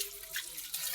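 Red amaranth greens being washed under running water, a brief close splashing rush from the tap with no voices.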